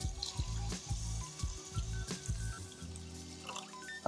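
Water poured from a vessel into a pot of rinsed rice for Christmas rice, a steady close splashing trickle with a few louder glugs, then easing toward the end.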